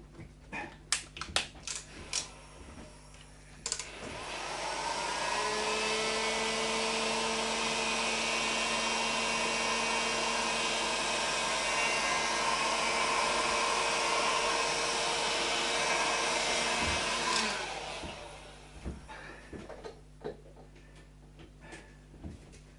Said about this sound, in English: I've got more of a need for my shrink wrapper blower